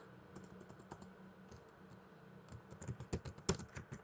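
Typing code into PyCharm on a computer keyboard: soft, quick keystrokes close by, sparse at first and then a denser, louder flurry toward the end, with no voices.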